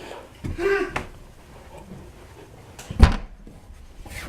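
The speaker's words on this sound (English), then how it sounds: "Who's shutting the door?" A door inside a lived-in house is pushed shut with one dull, solid thud, after quieter rustling and household movement nearby.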